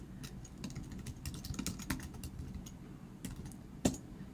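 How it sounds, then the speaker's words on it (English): Keywords typed on a computer keyboard: quiet, irregular key clicks in short bursts at close range, with one louder keystroke near the end and no talking. "So you type in a few keywords that you're interested in."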